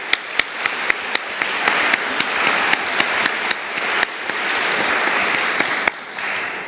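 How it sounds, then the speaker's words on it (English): An audience applauds at an evening event, a steady wash of crowd clapping with distinct sharp individual claps standing out near the front. "I think he also deserves a round of applause for everything he's done"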